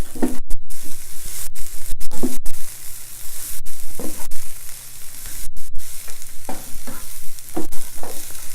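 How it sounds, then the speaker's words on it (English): Kale sautéing with garlic in a hot pan over medium heat, a steady sizzle broken by repeated scraping and stirring strokes, close and fairly loud with no talking. "So this is the time you can add the kale."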